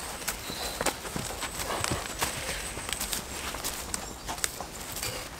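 Horse hooves clip-clopping at a walk outdoors on a French property, irregular soft knocks over steady background noise, fairly faint and at some distance.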